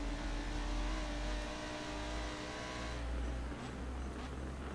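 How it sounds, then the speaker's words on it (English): Audi GT3 Cup race car engine droning heard onboard during a race, a loud steady buzzing roar with low rumble that eases slightly toward the end, with no voices over it. "This car sounds absolutely amazing."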